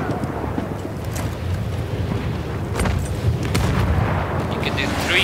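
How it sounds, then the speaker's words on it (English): Battlefield 1 rush-mode gameplay with a grenade explosion amid dense, continuous gunfire and booming battle noise, loud and close throughout. "I'm also going to do some rush gameplay, but throwing a grenade!"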